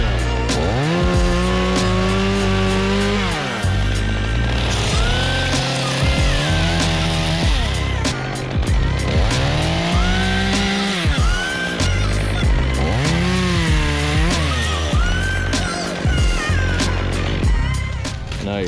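A chainsaw cuts a giant white oak tree into smaller pieces. The engine is loud and close, revving up and bogging down again and again as the chain bites into the wood.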